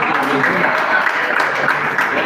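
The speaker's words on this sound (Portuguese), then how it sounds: "As palmas que glorificam" Steady, dense applause from a congregation at a Brazilian evangelical church service, continuous clapping filling the room with no pauses.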